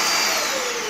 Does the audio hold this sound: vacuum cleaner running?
yes